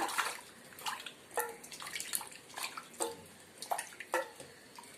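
Water splashing and sloshing in short bursts as a vessel is rinsed, with irregular pours and drips close by.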